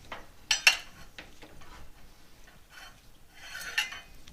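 A spoon stirs oats and almond milk in a pot, making scattered clinks and scrapes against the metal, a couple of sharper knocks early on and a brief burst of scraping near the end, with no talking.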